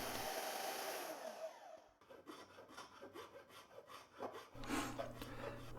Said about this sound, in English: I do the bulk of my handle profiling with round and half-round files